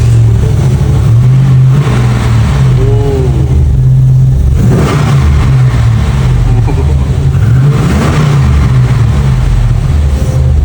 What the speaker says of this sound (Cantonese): 裝咗部6000cc 嘅野馬引擎落去，大家聽下個引擎聲